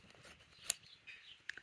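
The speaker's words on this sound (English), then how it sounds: "Put your scissors in and cut through the fold." Scissors snip through folded fabric for bunting: a faint, close-up crisp cut followed by a couple of quieter clicks of the blades in a quiet room.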